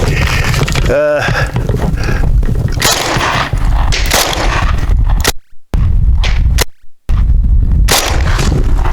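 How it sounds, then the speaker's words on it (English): A T97 rifle fires a series of sharp, loud shots in quick succession at close range, with a brief gap of near silence between volleys; a voice is heard around the firing. "I'll be able to shoot 10 rounds."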